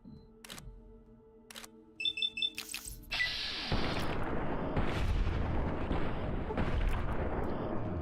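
Gunfire rings out in Fallout: New Vegas, with a few sharp separate shots, then a rapid burst of cracks, followed by a heavy blast that gives way to a long rumbling, noisy roar.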